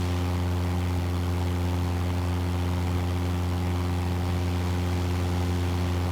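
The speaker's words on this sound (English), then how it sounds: "Sounding a lot like a Cessna. Taking off a lot like a Cessna." In Microsoft Flight Simulator, a blimp's engine drones like a Cessna, a steady buzzing propeller tone with strong even harmonics that holds unchanged throughout, with no talk.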